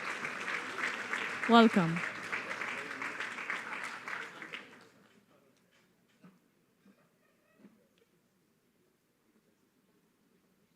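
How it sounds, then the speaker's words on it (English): Audience applause at a sustainability forum, a dense steady clatter of many hands filling the first four seconds, briefly overlapped by a spoken word, then fading to near silence with a few faint knocks. "So a big round of applause for all of them."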